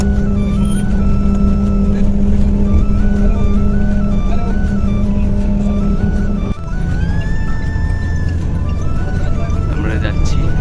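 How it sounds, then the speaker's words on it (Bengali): A bus pulling away from Esplanade in Kolkata: loud continuous engine rumble with shifting gear tones, a brief drop in noise partway, then steady running with a rising whine, people talking faintly over it. "এসপ্লেনেড থেকে ছাড়ছে বাস"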